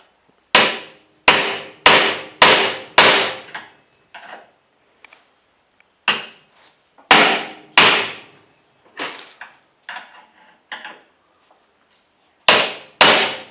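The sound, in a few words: hammering on car radiator support, Nissan R31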